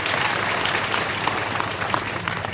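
A large crowd at a Maratha political rally applauds loudly and steadily, dense clapping filling the whole moment with no one speaking over it.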